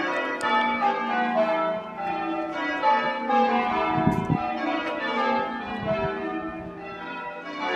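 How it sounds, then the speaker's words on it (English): Church bells ring out across a town at night, a dense, overlapping peal of many struck tones sustained throughout, moderately loud and carrying, with no voices. "the bells seem discombobulated in my head and not actually coming from where I thought they would be coming."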